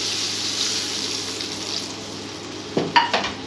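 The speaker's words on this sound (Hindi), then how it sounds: "अब ये तड़का मैं इसके अंदर डाल दूँगी" Hot tadka tempering poured into kadhi with pakoras, giving a steady hissing sizzle that flares into a few sharp crackles near the end, with no talk.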